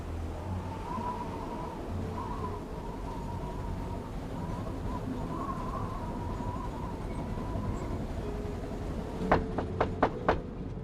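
A train rolls along with a low steady rumble and faint hum in an Agatha Christie Murder on the Orient Express video game, followed near the end by a few sharp knocks or clicks.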